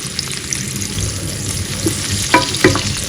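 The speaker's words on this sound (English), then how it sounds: "so here I'm frying the onion" Onion frying in a pan, a steady close sizzle with a few sharper crackles and stirring clatters toward the end.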